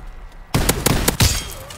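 Gunfire in a WWII shooter video game: a few sharp, loud shots in quick succession after half a second of quiet, with a couple of separate bursts and a ringing tail.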